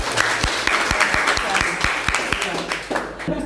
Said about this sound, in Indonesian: Kita kasih aplaus lagi dong